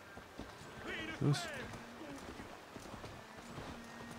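Horse galloping in Assassin's Creed Valhalla, with soft hoofbeats running under a voice speaking in German, along with faint game sounds and a short louder thump near the middle.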